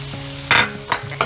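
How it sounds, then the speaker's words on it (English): Garlic hits a hot pan for beef stew, giving a short burst of close sizzling with a few quick stirring scrapes over a brief steady frying hiss. "I'm going to add in our garlic."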